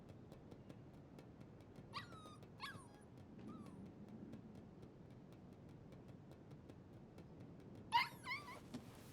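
Puppy whimpering in the game Life is Strange 2, a few high thin whines and yips with gaps between, soft and close over a quiet low background, ending with a louder cluster of whimpers.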